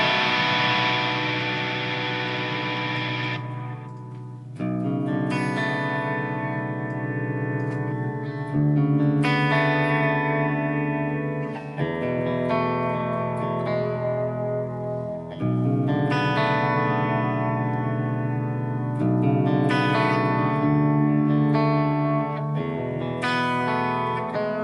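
Electric guitar through a Line 6 Metallurgy Collection amp plugin on its Archetype clean tone, with sustained ringing chords and notes, chorus and reverb washing over them; no talking.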